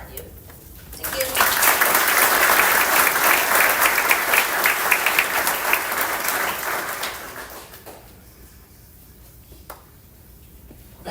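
A crowd at a high school boosters awards night applauds parents, with applause rising sharply after a brief quiet, sustaining for several seconds, then tapering off into a quiet room with a few stray claps.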